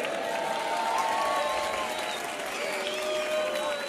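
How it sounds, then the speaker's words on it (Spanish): Crowd applause at the Burgos Carnival 2019 proclamation, steady broadband clapping throughout with faint voices and whistle-like tones mixed in, moderately loud and sustained. "¡Fuerte el aplauso para ellos!"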